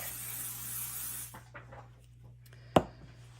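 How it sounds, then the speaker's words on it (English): Short hiss of pixie spray misted onto the back of a paper piece during a card-making class, a steady airy spray for about a second that stops, followed by a brief faint rustle and a sharp tap, quiet and close. "I am going to spray this with pixie spray, just a thin layer on the back."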